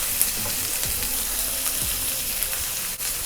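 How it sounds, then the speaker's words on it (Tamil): Onion and capsicum sauté in a pan, a steady bright sizzle with a few soft stirring scrapes, close and continuous with no voices. "இது ஆனியன் நல்லா வதக்கிட்டு அதுக்கப்புறம் வந்து நம்ம கேப்சிகம்,"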